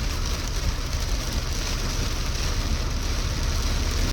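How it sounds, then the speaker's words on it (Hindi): Steady, dense rain hissing over a car during a hill drive through Dharampur in Himachal Pradesh, a loud, even wash of noise with no talk. "और अच्छी बारिश हो रही है अभी तो।"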